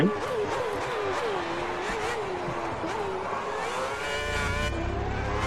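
A Lotus Formula 1 car in a 2010 Spain race sim revs and whines with shifting engine pitch as it closes in to lap another car, loud and steady, with a voice talking over it.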